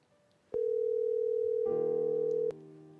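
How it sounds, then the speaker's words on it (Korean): A telephone line tone sounds while a call connects: a steady, loud single-pitch tone starts abruptly, shifts to a richer multi-pitch tone, then cuts off sharply, leaving a low hum. "먼저 한번 전화로 연결해 보겠습니다"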